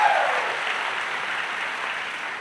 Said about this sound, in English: I don't know who's cheering for me.